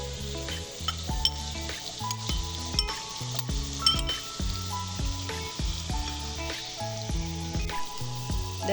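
Onions and dried fish fry in a pan for a Sri Lankan banana blossom dish, with a steady sizzle broken by frequent clinks and scrapes of a spoon stirring against the metal.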